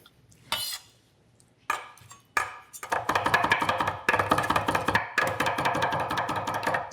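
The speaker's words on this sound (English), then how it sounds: "we're going to crush the garlic here" A kitchen knife crushes garlic on a cutting board, a few sharp separate knocks and then a fast run of dense tapping and scraping, close and clear with no talk.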